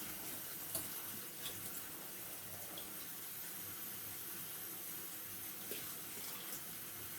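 Water running steadily from a tap into a sink, a continuous close hiss and splash with faint droplet ticks and no pauses.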